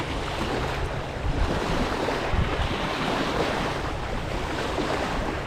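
Choppy sea waves wash and slosh continuously close by, mixed with gusty wind buffeting the microphone.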